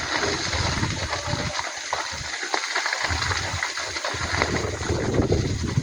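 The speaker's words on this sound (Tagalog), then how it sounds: "Ang lakas pa ng hangin" Strong wind gusting near a forest fire outdoors, buffeting the microphone in loud rumbling bursts with a hissing, crackling wash over it, continuous and close with brief lulls.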